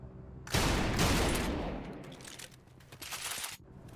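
Loud shotgun blasts from the first-person shooter Trepang2 in quick succession, booming and close with a harsh ringing tail that fades after a few seconds.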